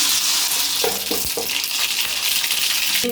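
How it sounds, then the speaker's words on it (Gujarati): Mustard seeds sputter in hot oil for tempering leftover rotli, giving a loud, dense, unbroken sizzle close to the pan with a few sharper pops along the way. "તેલ ગરમ થઈ ગયું છે તો હવે આપણે રાઈ ઉમેરશું"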